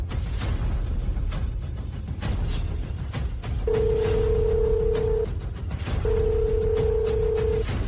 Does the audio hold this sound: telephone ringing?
yes